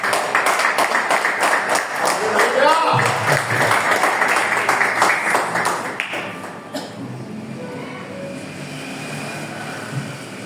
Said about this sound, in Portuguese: eu pediria que você aplaude essa palavra